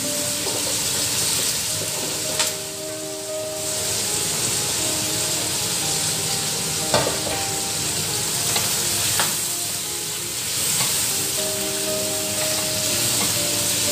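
Squash and malunggay sauté in a pan, giving a loud, continuous sizzle broken by the occasional scrape of stirring. No voices are heard.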